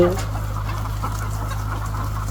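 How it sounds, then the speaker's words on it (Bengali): A large flock of free-range chickens roams an open outdoor area, clucking together over a steady low hum, with a brief louder call at the start. "এতগুলো মুরগি একসাথে"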